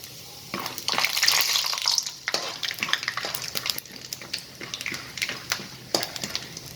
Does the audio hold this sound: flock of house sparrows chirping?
no